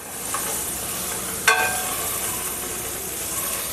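Turmeric powder frying lightly in hot oil, a steady close sizzle with one sharp metallic scrape of a spoon partway through.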